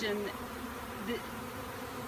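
A honey bee swarm buzzes steadily at close range, a dense continuous drone with a brief word spoken over it.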